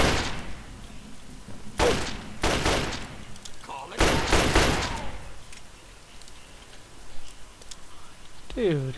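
Gunfire in the video game Fallout 3: several loud, sharp shots and short bursts land close together in the first half, followed by quieter thuds and clatter.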